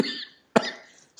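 A man coughs once, sharp and close, between breathy throat sounds, with a brief rasp starting again at the end.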